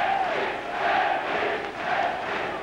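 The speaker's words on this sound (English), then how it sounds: "You can hear that German crowd getting behind their favorite." A German boxing crowd roars steadily at a Henry Maske bout, a dense, loud wall of cheering that swells and dips in waves, with no clear voices standing out.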